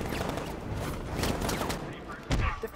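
Sniper fire in the video game Batman: Arkham Knight, a dense run of sharp cracking shots close up amid busy game noise, with a voice talking over it.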